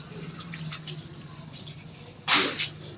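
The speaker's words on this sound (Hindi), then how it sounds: "जड़ों में पानी ज़रूर भर दिया करो यास्मीन" Water is poured onto the roots of garden plants, giving a soft splashing trickle that rises into a brief louder gush near the end over low background noise.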